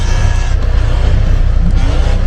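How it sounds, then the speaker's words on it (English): Several car engines rev hard in a rev-off at an outdoor car event with hoods raised among the cars, making a loud, steady, dense roar with no break. "down there they're doing another rev off"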